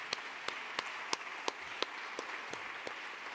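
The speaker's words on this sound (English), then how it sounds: "let's give them a round of applause." A scattered round of applause from a conference audience for an event's organizing team, several distinct claps ringing out at a steady rhythm, faint and somewhat distant in a quiet hall.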